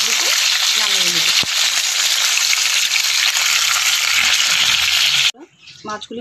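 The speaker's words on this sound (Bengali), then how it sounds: "মাথাগুলি ভাজা হয়ে গেছে, এখন আমি এগুলোকে নামিয়ে নেব" Salted, turmeric-rubbed fish heads fry in hot oil with a loud, steady, dense sizzle that fills most of the clip, then cuts off abruptly near the end, leaving a short stretch of quieter kitchen noise.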